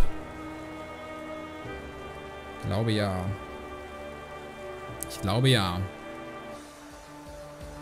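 Rain weather in a Pokémon video game battle makes a steady, even hiss throughout. A person speaks two short phrases over it.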